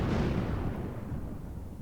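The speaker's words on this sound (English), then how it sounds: "What was that explosion?" A deep, rumbling explosion in a PS1 video game fills the whole clip, loud and sustained before slowly fading, with no talking.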